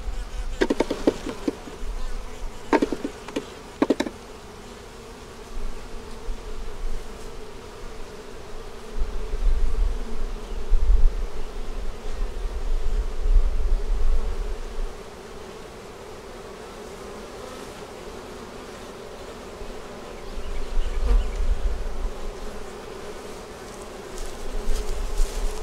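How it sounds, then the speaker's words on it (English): Honey bees buzz around a hive frame in a soft, continuous drone, swelling and fading as the swarm shifts, with a few brief handling knocks near the start and no talking. "Take the bees off."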